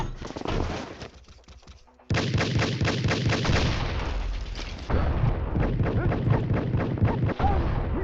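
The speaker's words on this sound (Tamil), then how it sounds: "ஹரி என்ன பாம் கன் மாதிரி தெரியுது" Gunfire in the multiplayer video game Combat Master: dense bursts of rapid shots and booms, loud and continuous apart from a brief lull near the start, with no talk over it.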